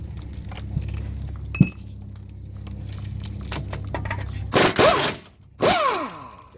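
Wrench work on 16mm bolts holding the steering gearbox of a 1970-1981 Camaro or Firebird: a sharp metallic clink early on, then two bursts of ratcheting and scraping metal near the end over a quiet hum.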